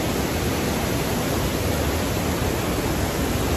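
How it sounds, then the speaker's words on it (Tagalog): The waterfall between the second and third Joffre lakes roars close by as a constant, dense wash of noise, loud and unbroken throughout. "Makikita nyo na ang waterfalls. Naririnig nyo na ba yan?"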